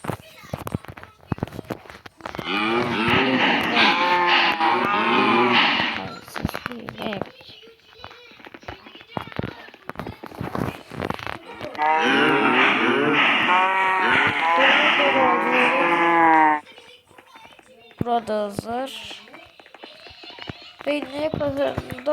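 Long, drawn-out cow moos come in two loud bursts in a farm barn, with people talking nearby and quieter farmyard noise in between.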